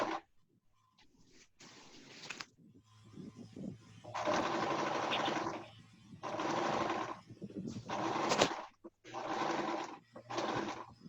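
A sewing machine stitches a homemade fabric face mask in several separate bursts of steady whirring, each lasting about one to two seconds, with short quiet pauses and some handling noise between them.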